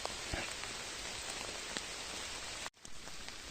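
Rain falling steadily in a Carpathian forest during autumn mushroom picking, a soft, even hiss of drops with a few closer pattering taps, briefly cut off near the end.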